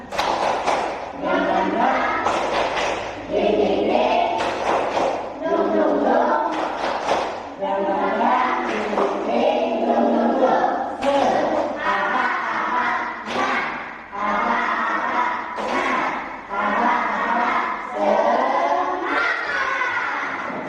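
Schoolchildren in a classroom perform a 'tepuk semangat' spirit chant, rhythmic bursts of clapping and shouted voices repeating in quick sections, loud and close throughout with short pauses between phrases.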